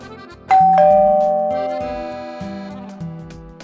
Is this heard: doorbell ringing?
yes